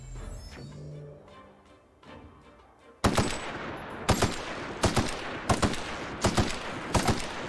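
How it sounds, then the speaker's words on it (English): A gun in the video game The Outer Worlds fires at a swarm of flies, a rapid series of sharp, loud shots after a quieter stretch of ambient game sound, about eight evenly spaced blasts. "Apparently, I'm shooting the individual flies with this thing"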